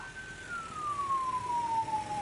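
A convoy of ambulances passes with a wailing siren whose pitch slides steadily downward as it goes by, clear above a constant rumble of traffic.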